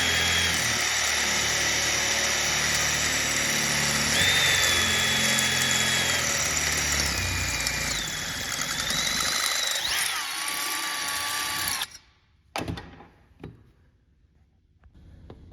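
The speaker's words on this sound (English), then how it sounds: "Then I'm using a 1/4 inch drill bit to make the actual hole that I need." A power drill with a 1/4 inch bit whines steadily for about twelve seconds while drilling a hole in a guitar expression pedal, its pitch wavering as the bit bites in, then it cuts out and a few light clicks follow.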